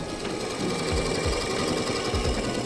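Usha sewing machine stitching steadily, a continuous close mechanical whir with a rapid needle rhythm and regular low thumps, running alone without talk.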